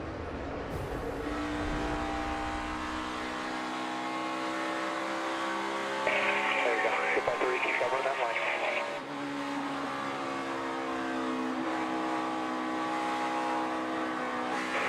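Onboard engine roar inside NASCAR Cup car No. 42 at the 2017 O'Reilly Auto Parts 500, a steady sustained drone with shifting pitch as the car runs at speed, loud and close throughout with a brief harsher burst midway.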